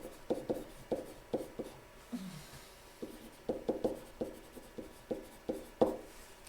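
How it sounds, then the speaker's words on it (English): Pen or pencil writing by hand on paper, a quick series of short scratchy strokes in irregular bursts, close and fairly quiet with no talking. "Let me write that down"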